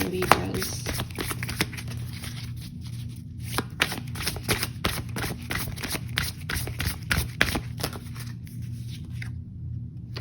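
Tarot cards are shuffled steadily by hand, a rapid run of crisp riffling flicks and soft taps close up that continues for about ten seconds with a low background hum and no talking.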